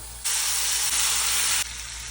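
Pumpkin pieces fry with turmeric and asafoetida in a pan over medium heat, giving a loud, steady hiss that swells suddenly, holds for over a second and then drops back to a lower sizzle over a constant low hum.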